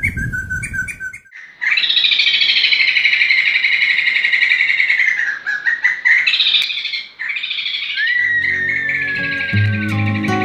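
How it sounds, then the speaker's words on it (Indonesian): A Sumatran crested laughingthrush sings a loud, harsh run of varied whistling and chattering phrases, close and continuous, with short breaks and a sliding note near the end. "Jambul Sumatera mempunyai suara kasar dan keras yang terdengar mirip dengan suara Poksai mantel"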